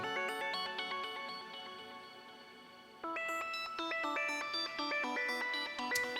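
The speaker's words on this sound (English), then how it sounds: "you just add these little bleeps and bloops and tricks to fill in spaces" Quick electronic bleeps and bloops hop between pitches in rapid sequences, bright and tinny, growing busier partway through.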